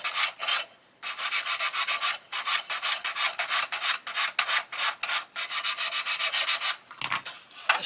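Sanding stick rubbed back and forth over a 1/12 scale Italeri Lancia Stratos model car body, a rapid series of rough scratchy strokes with a few short pauses, close and fairly loud.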